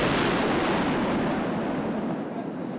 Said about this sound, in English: And then detonated from a safe distance.